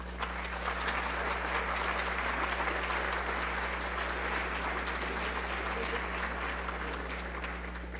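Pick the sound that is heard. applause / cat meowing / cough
applause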